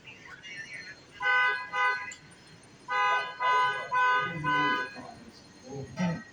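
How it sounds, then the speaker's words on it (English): A car horn honks repeatedly in bursts of varying length in a parking lot outside a Walmart in Orange County, moderately loud, with faint background noise and a brief voice near the end. "Someone's honking away."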